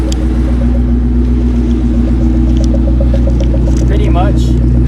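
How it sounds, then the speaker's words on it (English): A Ford Mustang engine idling loud and close with a steady low rumble, then lifting into a short rev near the end as the throttle is pressed; a voice speaks briefly over it. "So I'm going to rev. So hit the gas."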